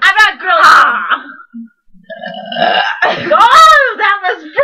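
Loud, drawn-out burps from a burping contest, croaking and warbling close to the mic, with a brief gap before more strained belching and vocal noises follow.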